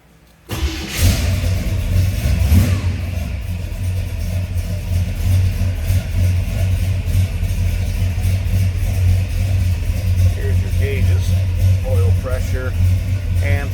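A 1955 Chevrolet 210 two-door hardtop engine cranks and catches, then runs with a loud, steady low rumble and some revving, close up for over ten seconds; no one speaks.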